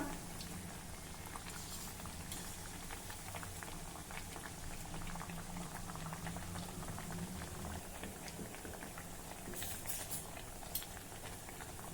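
Steamed vadas deep-fry in hot oil, producing a dense, steady bubbling and crackling sizzle that runs unbroken and fairly close throughout, with a few sharper pops near the end and no voices.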